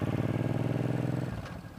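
A V-twin overhead-valve motorcycle engine, a bobber, runs close and loud with a steady, pulsing idle thump that stays rhythmic, then softens and thins slightly near the end.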